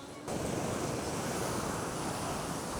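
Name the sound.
strong waves on a large lake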